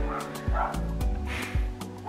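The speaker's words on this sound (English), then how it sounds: "And I'm sorry about the dogs barking." Several dogs bark in short, repeated bursts close by, roughly every quarter to half second, loud throughout with occasional yips in between.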